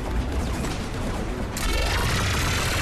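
Rapid automatic gunfire from the Spitfire gun in Mass Effect 3, a dense continuous burst that grows louder and brighter partway through, with no talking over it.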